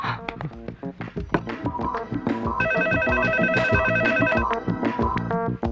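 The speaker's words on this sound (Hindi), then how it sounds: "एक काम करता हूँ, मैं निक्की को फोन ट्राई करता हूँ।" A phone ringtone plays a repeating electronic melody, fairly loud and close, cycling several times over a few seconds without any talking.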